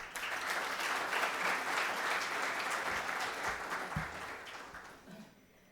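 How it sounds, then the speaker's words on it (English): Sustained applause from an audience at the inaugural ceremony of a youth dialogue in Ahmedabad, a dense even wash of clapping that holds steady for several seconds before thinning and fading near the end. "A round of applause for today's event."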